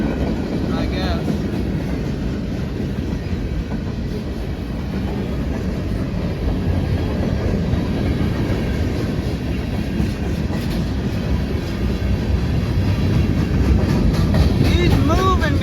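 A CSX M327 freight train rolls past in the rain, a steady loud rumble of railcars with rhythmic clickety-clack of wheels over rail joints and faint squeals, continuous throughout.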